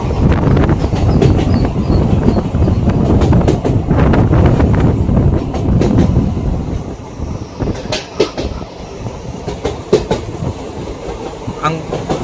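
Passenger express train running on track between Erode and Mettur, a loud rumbling roll with rhythmic clickety-clack and wind buffeting, recorded from on board and easing to a lighter rattle later.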